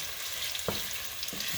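Cornstarch-coated chicken pieces browning in a pan, an even, close frying sizzle with a couple of soft knocks and no talk.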